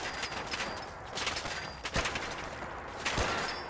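Gunfire rings out in Fallout 4 as a string of sharp shots at irregular intervals, a couple of them standing out louder, over a steady noisy game background.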